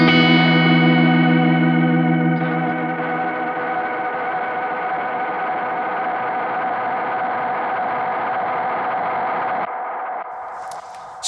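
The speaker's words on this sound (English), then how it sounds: "if I hold in that right switch, then I get the oscillation effect" An Anasounds Utopia Deluxe delay pedal is held in oscillation for infinite repeats, a loud sustained swirling drone that thins and shifts over about ten seconds before dropping off abruptly.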